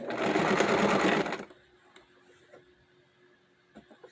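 Automatic sewing machine stitching loudly and steadily for about a second and a half, then stopping, leaving a quiet room with faint clicks and small handling noises.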